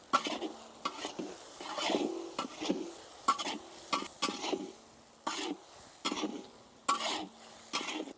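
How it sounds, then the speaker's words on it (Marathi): Tomatoes, green chili and onion are sautéed in a pan with repeated rhythmic scraping and stirring strokes over a soft sizzle, each stroke sharp and close. There is no talk. "कट केलेली हिरवी मिरची घालून घेऊ टमाटर घालून घेऊ टमाटे पण व्यवस्थित परतून घेऊ"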